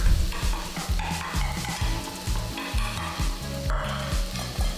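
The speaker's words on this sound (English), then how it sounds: "Now we're gonna throw in the chopped garlic." Chopped garlic hits hot shrimp-infused oil in a wok, giving a loud, steady sizzle with rhythmic scraping and stirring strokes throughout, close up and with no talking.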